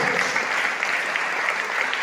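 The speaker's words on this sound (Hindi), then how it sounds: "जोरदार ताली होनी चाहिए हमारे दादू डॉक्टर लिमसियोदिन के साथ" Loud, steady applause from an audience at a large sales meeting, dense clapping sustained throughout without breaks.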